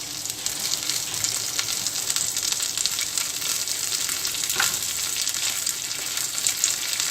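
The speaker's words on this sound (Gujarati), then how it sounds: "હવે આમાં આપણે કોથમીર અને કારી પત્તા નાખી રહ્યા છે।" Coriander and curry leaves sizzle in hot oil as a tempering for coconut chutney, a steady, close, bright crackle that holds evenly throughout with no talk.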